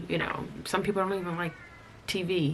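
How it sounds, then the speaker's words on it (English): A cat meows loudly and close by in two drawn-out, wavering calls while a person keeps talking over and between them. "That's my cat, if you can hear him."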